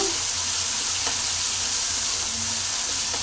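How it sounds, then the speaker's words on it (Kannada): Two tomatoes fry in oil in a pan with garlic, giving a loud, steady, close sizzle with a few faint stirring clicks scattered through it. "ಟೊಮಾಟೊ ಹಾಕ್ಬಿಟ್ಟು ಸ್ವಲ್ಪ ಚೆನ್ನಾಗಿ ಫ್ರೈ ಮಾಡ್ಕೋಬೇಕು"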